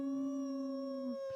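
A dog howls in one long, steady, close tone that holds, then breaks off near the end, heard alone without speech.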